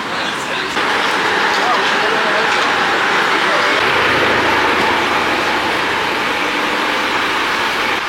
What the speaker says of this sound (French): Je suis à bord d'un bus